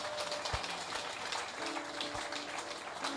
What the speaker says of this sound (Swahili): Est-ce qu'on peut applaudir Raphaël?